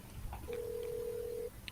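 A telephone rings with a single sustained electronic tone of about one second, faint and steady against a low murmur of background noise.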